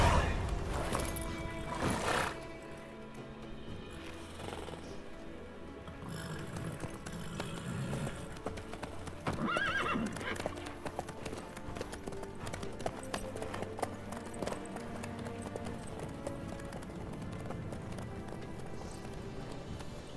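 A horse gallops in The Witcher 3, its hooves clopping rhythmically and continuously. A brief neigh breaks through over the game ambience, with faint voices in places.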